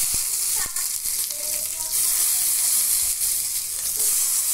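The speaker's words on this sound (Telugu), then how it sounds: "ఫస్ట్ జీలకర్ర వేసుకుందాం తర్వాత వెల్లుల్లి వేసుకుందాం" Cumin seeds and garlic sizzle loudly in hot oil for ridge gourd peel chutney, a continuous crackling hiss with occasional pops and stirring clinks throughout.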